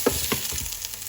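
Burger mince with garlic frying in a pan, a close, steady sizzle broken by a few sharp crackles and pops, heard alone.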